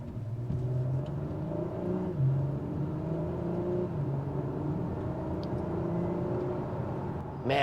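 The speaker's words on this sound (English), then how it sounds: "exhaust notes is so nice, so much more pronounced" A 2021 Acura TLX Type-S pulls hard, its engine and exhaust holding a loud, close droning growl whose layered tones rise and shift steadily throughout, with a brief swell at the very end and no voices over it.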